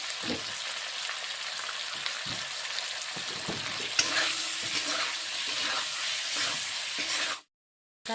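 Parboiled potatoes sprinkled with salt and turmeric fry in oil, giving a continuous close sizzle with occasional stirring scrapes, then cutting off abruptly near the end.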